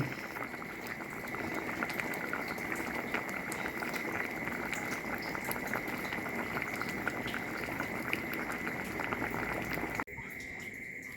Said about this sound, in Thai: กำลังเดือดเลย